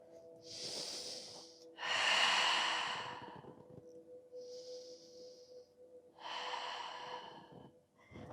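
Slow, audible breaths during a slow-flow yin yoga class for menopause: a few long inhales and exhales, close and breathy, separated by short quiet gaps, with no talking.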